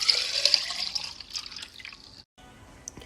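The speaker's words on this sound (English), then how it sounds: "Now measure 400 milliliters of water and pour it into the double-walled cup." Water poured into a double-walled cup for a classroom thermal energy lesson, a short, fairly quiet splashing trickle that tapers off, then a brief drip or two after a pause.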